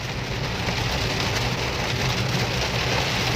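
Heavy rain pours down steadily as a dense, loud wash of hiss and patter that stays constant and unbroken throughout, with no voices.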